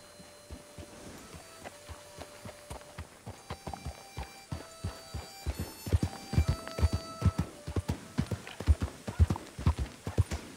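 Horse hooves clip-clopping in the Western game Dead West RP, a steady run of distinct hoofbeats that grows louder and quicker toward the end, close and alone.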